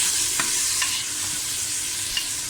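Onion with tomato, green chilli and masala fries in oil for a keema karela dish, giving a steady bright sizzle with a few soft spoon scrapes and stirs against the pan.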